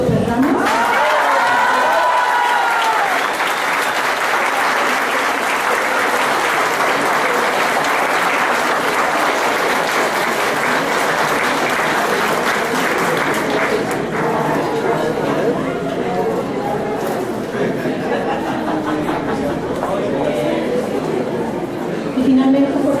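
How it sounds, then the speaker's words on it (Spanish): Long, loud applause from the audience at a round-table panel on suicide and childhood, dense steady clapping with crowd murmur and some cheering, continuing for the whole stretch and thinning slightly toward the end. "por favor, un aplauso"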